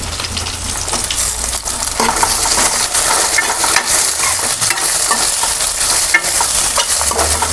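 Chopped tomatoes frying in hot oil with onion paste for a potato curry, a loud, close, continuous sizzle with a spoon stirring, scraping and clinking against the pan throughout.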